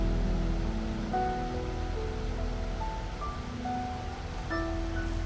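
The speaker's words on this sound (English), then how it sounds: "Made it down to this area of woodland with the river that you can hear there running through the middle." River running heavily through Dartmoor woodland: a steady, even rush of flowing water fills the whole stretch, with thin, scattered birdsong whistles sounding faintly above it.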